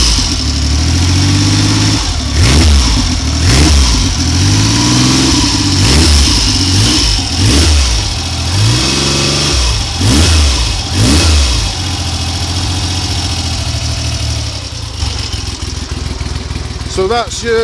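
A Triumph Trident motorcycle engine with old Amal carburettors, cold-started after a layup on E10 fuel, revs repeatedly in loud rhythmic bursts and then settles into a steady idle, with a brief voice near the end.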